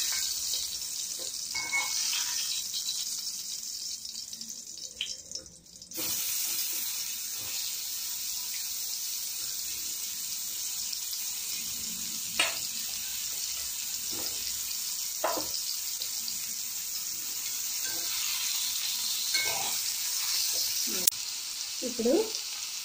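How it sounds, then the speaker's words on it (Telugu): Bottle gourd pieces fry in a pan for a Telugu dappadam, a soft continuous sizzle with occasional clinks and scrapes of stirring, a brief pause early on, heard up close without speech. "ఇప్పుడు వేగుతున్నాయి కదా, ఇది చూసారా"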